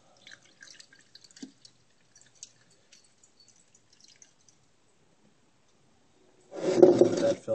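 Liquid from a gold recovery process dripping through a filter: scattered faint drips and ticks at first, then a louder burst of trickling and splashing near the end, close by and with no talk.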